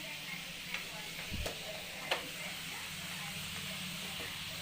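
French fries fry in hot oil while being stirred in a home kitchen, a steady close sizzling hiss with a few soft knocks of the spoon against the pan.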